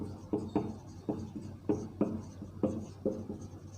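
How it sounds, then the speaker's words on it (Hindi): Chalk or marker strokes scratch across a board during a class 10 coordinate geometry maths lesson, about eight short bursts in an uneven rhythm, close and moderately loud with no talk over them. "तो हम यहाँ पर लिखेंगे"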